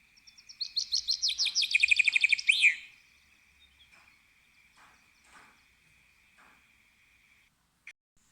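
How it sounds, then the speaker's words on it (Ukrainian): A common chaffinch sings its morning song: one bright, rapid descending trill that speeds up and ends in a flourish, loud and clear at first, followed by faint scattered chirps and a steady high background insect-like tone. "А це ранкову пісеньку співає зяблик."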